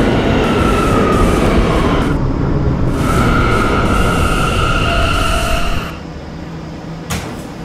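An R179 D subway train runs steadily in a Roblox PTA Subway ride on the 5th Avenue Lines, a loud continuous rumble with whining tones that drops and thins near the end, followed by a brief knock.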